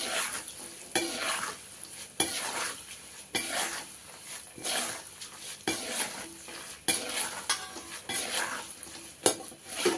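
Peanuts and cashews stirred and fried in a pan for lemon rice, with repeated scraping strokes of a spoon against the metal in an even rhythm over a soft background sizzle, close by.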